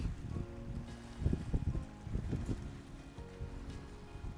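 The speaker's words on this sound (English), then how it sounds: "Sorry, it's a little windy out here" Low, rumbling wind buffets the microphone steadily, with gusty bursts and a broad outdoor roar throughout, on a cold, rainy, blustery fall day at Muncho Lake on the Alaska Highway.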